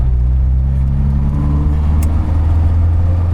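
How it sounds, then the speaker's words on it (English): A 1975 MG Midget engine rumbles loudly and close by, holding a steady, low, even note with no talking over it. "Basically having to try and match the speed of the engine"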